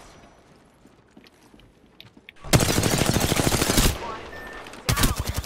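Video game gunfire erupts close and loud as a rapid automatic burst lasting over a second, then stops and resumes with another short burst, after a quiet stretch with faint background sound and a brief spoken word.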